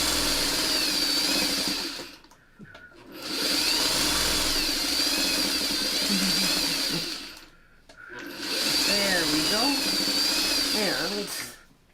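Motor of a sewing machine stitching quilt fabric in three long runs, each whirring up and holding steady before pausing, with a person speaking over the machine.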